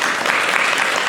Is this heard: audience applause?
yes